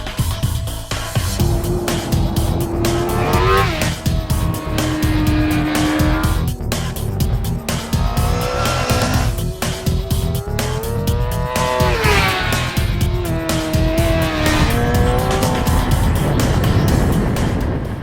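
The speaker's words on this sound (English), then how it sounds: "today's 750 continues to employ a 600-style chassis stuffed with an oversized inline-4 engine" A 750 sportbike with an oversized inline-4 engine laps a race track, its high-pitched engine note rising and falling through repeated upshifts and downshifts, loud and close throughout.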